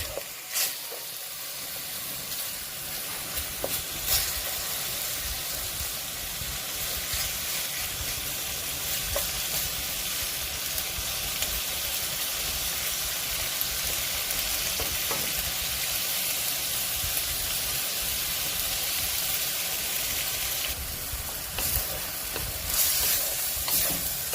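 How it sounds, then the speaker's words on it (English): Shrimp with mixed vegetables sizzling in a hot pan as they are stirred, a continuous bright hiss with intermittent clinks and scrapes of the utensil, close and steady throughout with no voices. "I'm going to cook this shrimp for about 3 to 4 minutes depending on the size of the shrimp"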